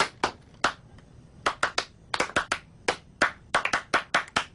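A few people clap at home, scattered, irregular sharp hand claps close by, unsynchronised bursts with short gaps between them.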